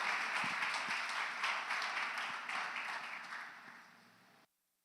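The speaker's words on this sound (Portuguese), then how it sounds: "Se você concorda, aplauda o Senhor mesmo." A church congregation applauds, a fairly faint wash of clapping with a few sharper claps that tapers off over a few seconds before cutting out abruptly.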